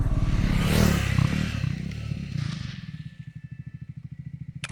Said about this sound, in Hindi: फर्स्ट गियर पे है, ये भी देखो तगड़ा डिक्लाइन है, लेकिन बढ़िया इंजन ब्रेकिंग पे जा रहा है।